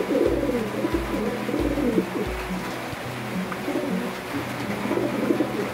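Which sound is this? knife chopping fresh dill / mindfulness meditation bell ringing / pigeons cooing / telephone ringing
pigeons cooing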